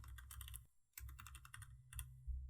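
Quick bursts of computer keyboard typing, close and crisp, come in two clusters separated by a short pause, ending with a couple of final key taps while text is entered in a WordPress editor.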